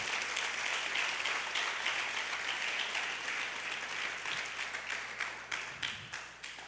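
A church congregation applauds during a Spanish-language sermon, a steady wash of many hands clapping at moderate distance that thins toward the end into scattered individual claps.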